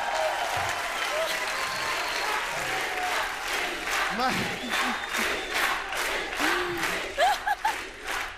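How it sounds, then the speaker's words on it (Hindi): A studio audience on a Hindi comedy show breaks into loud, sustained applause with some cheering mixed in, and bursts of speech and crowd noise rise near the end. "तालियां रवीना मैम के लिए।"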